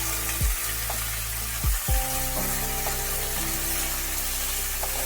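Sliced teasel gourd dropped into hot oil with ginger and garlic, a few sharp bursts of sizzling as pieces hit the pan, settling into a steady close frying hiss.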